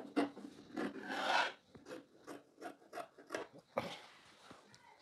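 Fabric is being trimmed while a bubu gown is cut out, producing soft, close rasping snips and rubbing strokes in an irregular rhythm, faint overall.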